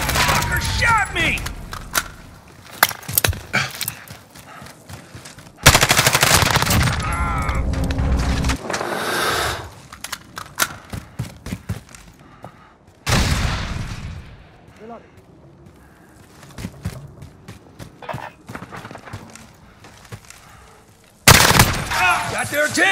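Gunfire in Call of Duty: Modern Warfare, loud bursts of rapid shots and heavy impacts coming in waves, with shouted voices between volleys and a sudden loud blast near the end.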